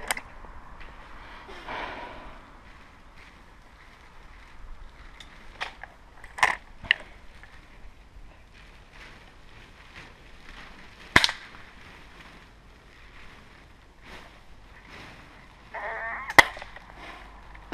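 Several sharp, sudden bangs ring out, spaced a few seconds apart, against a quiet background with faint noise between the shots.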